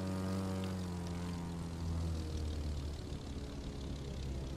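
A propeller airplane in The Crew 2 settling onto an airport runway, a steady loud engine drone with a deep hum that lowers in pitch as it slows, heard alone without talk.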